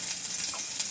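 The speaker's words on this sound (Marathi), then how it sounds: "तेलावर फक्त लसूण फोडणीसाठी घातलेलं आहे" Garlic dropped into well-heated oil for tempering bottle gourd dal, a brief, close hissing sizzle.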